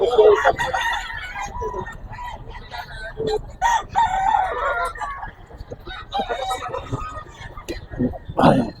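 Roosters and fowl at a Grotto market crow and cluck in repeated loud bursts, with people talking over and between the calls.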